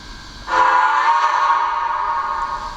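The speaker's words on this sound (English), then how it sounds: "this is by far the best steam whistle I have ever heard on a HO/00 gauge locomotive" A Rapido HO/00 gauge Royal Hudson model steam locomotive sounds its steam whistle: one loud, sustained, clear whistle that starts abruptly and holds steady for over two seconds, alone and close.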